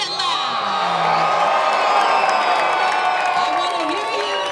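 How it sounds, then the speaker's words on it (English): Crowd of college baseball fans cheering, whooping and shouting at a UCLA vs UTSA NCAA Super Regional game, a loud sustained roar of many voices with scattered yells. "Make some noise. You are here to cheer on the Bruins. Get loud."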